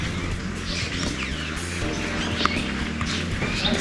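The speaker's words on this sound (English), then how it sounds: "The sounds of so many different birds chirping all around was really relaxing." Several birds chirp and call in Bandipur forest over a steady, busy background with low rumbling tones, the chirps scattered throughout rather than in a clear rhythm.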